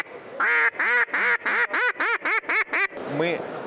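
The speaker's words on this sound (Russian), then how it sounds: "Мы представляем манки на утку Дикий Колс от Дмитрия Курочкина" Wild Calls duck decoy call, made by a Russian duck-call champion, blown in a series of about nine loud, evenly spaced nasal quacks, then a softer trailing call over a murmuring exhibition hall.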